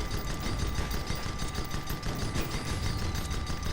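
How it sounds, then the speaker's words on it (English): A Gatling gun fires in the airship combat game Guns of Icarus, a steady, dense rattle of rapid shots that runs without a break at moderate loudness, with no voices. "That's a Gatling gun."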